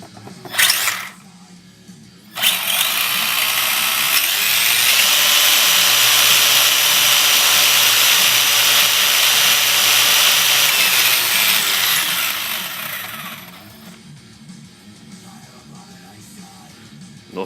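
A Tamiya TA-01 radio-controlled car's wheels spin under power, starting after a short bump and holding a loud, steady high-pitched motor whine for about ten seconds before winding down to quiet.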